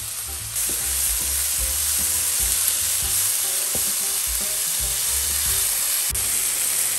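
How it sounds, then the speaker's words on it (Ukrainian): Steady sizzling of food frying in a pan, close and constant, with occasional stirring clinks and scrapes. "Смажимо її до напівготовності"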